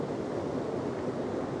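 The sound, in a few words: water cascading into a pool at a waterfall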